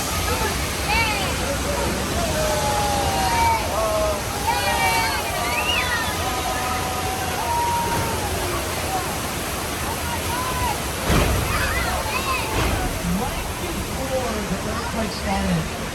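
Rushing water from a simulated burst water main on the Universal Studios studio tour, a steady broadband roar lasting throughout, with crowd voices and chatter layered over it.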